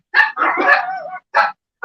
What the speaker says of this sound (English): And they're barking at him.